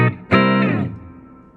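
Electric guitar played through the reverb effect of a Positive Grid Spark 40 amp: two picked notes or chords with a brief gap, the second ringing out and fading into a soft, transparent reverb tail, alone with no voices.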